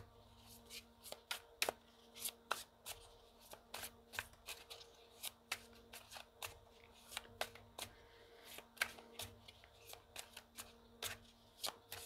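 Tarot oracle cards shuffled by hand, a rapid series of crisp riffling flicks and slaps in uneven bursts, close and quiet, with no talking.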